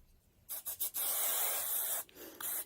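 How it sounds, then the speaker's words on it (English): A hiss of aerosol fixative spray, a few quick short bursts followed by a long steady spray, then a couple more brief sprays, close by. "Spraying with my spray, my fixer spray"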